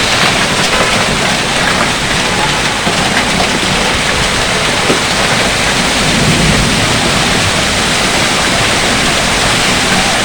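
Very heavy rain mixed with hail pours onto a Dhaka street, heard from inside a shop as a dense, unbroken roaring hiss that stays loud and steady throughout.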